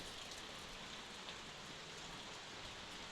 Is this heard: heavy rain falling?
yes